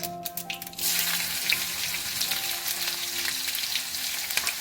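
Curry leaves hit hot oil already holding spluttering mustard seeds, sesame, green chilies and asafoetida for a Gujarati khandvi tempering, bursting into a loud, steady, close sizzle that carries on without a break.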